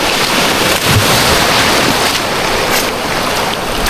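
Sea waves wash against the shore on a coastal beach, a loud, continuous surging roar mixed with gusty wind buffeting close to the listener, with no voices.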